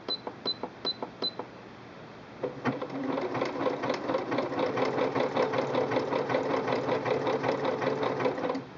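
A Singer Quantum Stylist 9960 sewing machine sews a zigzag stitch, starting with a few short electronic beeps, then a steady, fast, close mechanical whir and needle rattle running continuously to the end.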